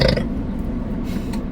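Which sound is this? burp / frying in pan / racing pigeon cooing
burp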